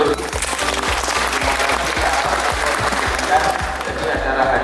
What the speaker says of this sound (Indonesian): mohon izin tepuk tangan untuk seluruh direktur